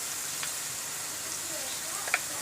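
Chicken with onions, turmeric and spices cooks in a pan with a soft, continuous low sizzle and a few faint clinks of stirring, heard close and quiet with no speech.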